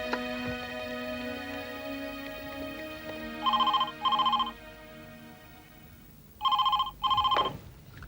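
A telephone rings twice, each a pair of short electronic trills, clear and fairly loud over a low background hum, with a quiet gap between the rings.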